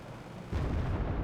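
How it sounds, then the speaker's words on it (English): Bombs dropped by GR1 jets in the game Wargame: Red Dragon. A dull low rumble surges into a heavy, sustained booming explosion midway through, loud and muffled, with no talk. "GR1 dropping bombs."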